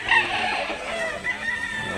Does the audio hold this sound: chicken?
yes